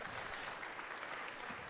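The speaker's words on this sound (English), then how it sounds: "is getting a round of applause" A netball crowd at a Sapphire Series match applauds as a returning player, Katie Walker, goes back to the bench. The steady, fairly faint patter of many hands clapping stays constant throughout.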